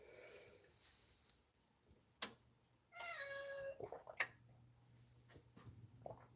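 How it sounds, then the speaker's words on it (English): A domestic cat cries for attention indoors at home with a few drawn-out meows near the middle, set among scattered faint ticks and clicks against a low steady hum. "my cat's crying. He wants attention."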